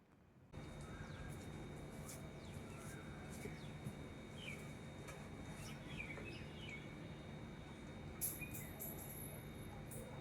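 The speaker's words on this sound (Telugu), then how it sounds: "నేచర్ మ్యూజిక్, కోయిల పాటలు" Birds, including a koel, calling in a home garden: scattered chirps and short whistled calls over a steady, fairly faint background hum.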